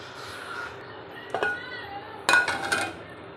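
A lid is set over a pan on a low gas flame, making two bright metallic clatters about a second apart, with a faint background hiss and soft voices.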